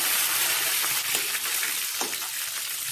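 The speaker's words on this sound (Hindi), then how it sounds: "अभी इसमें कड़ी पत्ता डालेंगे" Curry leaves dropped into hot oil already crackling with mustard seeds and reddened urad dal give a steady, loud, close sizzle with sharper spits and pops, and no voices.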